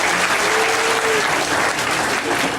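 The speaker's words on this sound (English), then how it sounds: "We'll give them a big round of applause for all of the support." Steady, dense applause from a large crowd at a school assembly, continuous and loud throughout with no pauses.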